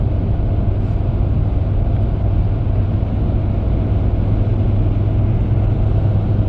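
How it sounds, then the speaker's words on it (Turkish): A 2012 Ford Fiesta 1.4 TDCi diesel, 70 PS, cruising at 130 km/h and 3000 rpm gives a steady, loud low drone of engine and road noise inside the cabin, unchanging throughout. "tam 130'da 3000 devirde gidiyor aracımız"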